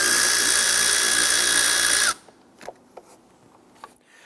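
A 5/16 socket on a power driver loosens the intake tube hose clamp on a 2011-2021 Jeep Grand Cherokee 3.6L V6, whirring loudly and steadily for about two seconds before cutting off, followed by a few faint clicks.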